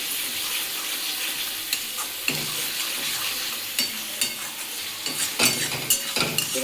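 Mutton with cumin powder sizzles steadily in a pan while a spoon stirs and scrapes it, giving irregular clinks and knocks that grow busier toward the end; no voices.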